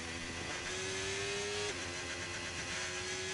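A race car engine in a racing video game revs loudly at a steady pitch, then drops briefly and climbs again, forming a constant close drone with no talk.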